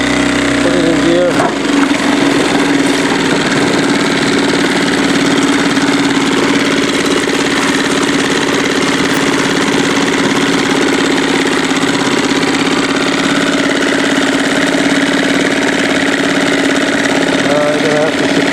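A Parsun 2.6 outboard motor runs steadily in gear, a loud continuous buzzing drone with a rough, knocking edge that holds close and unbroken from start to finish.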